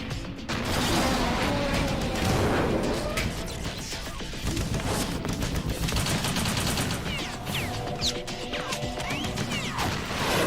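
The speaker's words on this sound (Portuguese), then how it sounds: "A metralhadora do sólido" Machine gun fire in Metal Gear Solid 2: Substance rattles nonstop throughout, thick with mechanical clanks and crashing impacts, loud and close.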